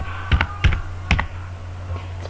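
Typing on a computer keyboard while entering router configuration commands: three close, distinct bursts of double clicks over a steady low hum, with a fainter keystroke near the end.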